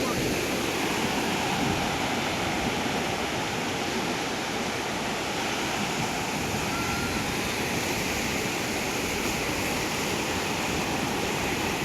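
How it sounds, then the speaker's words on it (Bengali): Ocean surf breaking on the beach at Cobbyn's Cove in the Andaman Islands makes a constant dense roar of crashing water and wash, loud and close, with wind mixed in. "ওই ঢেউটা দেখো কত বড় ঢেউ।"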